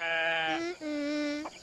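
Two long, wavering bleats from a cartoon goat, close and loud, with a short quavering call at the end.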